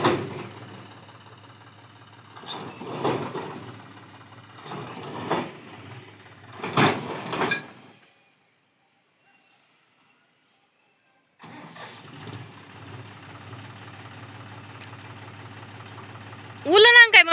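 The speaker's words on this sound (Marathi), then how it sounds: "ते मका उलळायचं काम चाललंय. मका आणलेली ट्रॅक्टरच्या ट्रॉली भरून." Tractor-driven maize sheller working through a trolley load of maize: uneven engine surges and clatter, a brief near-silent gap, then steadier running machinery, with voices talking over it.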